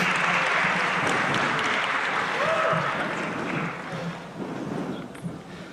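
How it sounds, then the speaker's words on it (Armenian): A warm round of applause from a youth conference audience in Yerevan, broadband clapping filling the room at steady density before thinning slightly toward the end, with no voices over it. "ես խնդրում եմ ևս մեկ անգամ ջերմորեն ծափահարենք բոլոր բանախոսներին"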